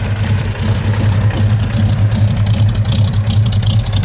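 A 1966 Ford Mustang coupe engine idling with a steady, loud, low throbbing rumble, close by and alone without talk.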